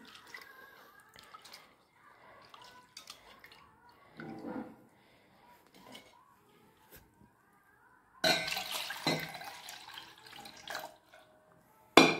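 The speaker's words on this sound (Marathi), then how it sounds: "पहिल्यांदा डाळ लावते कुकरमध्ये स्वच्छ धुवून।" Lentils are rinsed clean for a pressure cooker under a kitchen tap. Soft splashes and faint clinks come first, then a louder burst of running water pours for about two seconds before quieting again.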